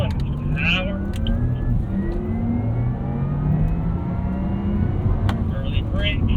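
A 2023 Porsche Taycan Turbo electric car accelerating hard around a track, its steady motor whir rising in pitch under continuous road and tire noise, with a driving instructor talking over it.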